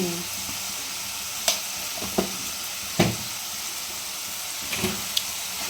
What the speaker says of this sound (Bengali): মশলাটা কষবো আমি।